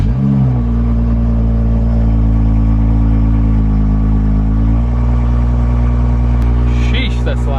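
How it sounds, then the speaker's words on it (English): BMW 335i with a flame tune cranks and fires into a loud, steady cold-start rumble, a brief surge at ignition settling into a constant deep drone with a small shift partway through. "I'm gonna go ahead and turn on the car now."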